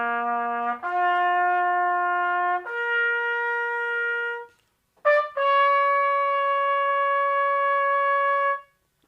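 A brass euphonium plays the sustained opening fanfare of Richard Strauss's theme from 2001: A Space Odyssey, rising long held notes with a brief break, close and clear with no talking.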